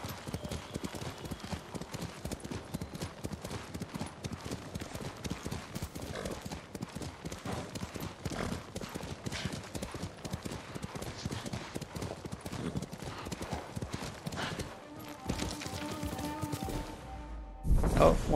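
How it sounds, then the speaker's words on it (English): Kage, a horse in Ghost of Tsushima, gallops in a long, relentless run of rapid hoofbeats, with a brief snort near the end before the pace breaks and a heavy thud lands at the close. "You're a good horse, Kage."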